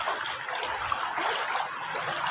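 Shallow stream water babbles and trickles steadily while a person wades across it outdoors, a continuous close, moderately loud rushing wash with no voices.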